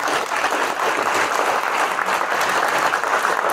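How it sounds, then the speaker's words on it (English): Steady, full applause from a crowd at a political candidates' forum at Centralia College, dense clapping continuing evenly throughout without pauses or speech. "I think we have a round of applause due to these folks here"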